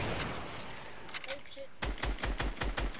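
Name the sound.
gunfire in Fortnite video game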